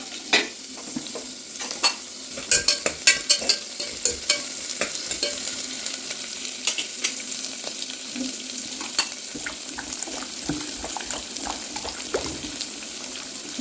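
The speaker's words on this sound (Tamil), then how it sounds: "வெங்காயம் ஃபஸ்ட்டு, பூண்டு எல்லாம் போட்டு ஒரு வதக்கிட்டு கத்திரிக்காய் தக்காளி எல்லாம் போட்டு வதக்கிடலாம்" Brinjal, onion, garlic and tomato sautéing in hot oil, a steady close sizzle broken by irregular scraping stirs and clinks, with running water from a tap in the background.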